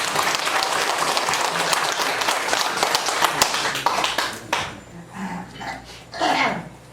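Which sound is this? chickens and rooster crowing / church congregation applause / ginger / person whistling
church congregation applause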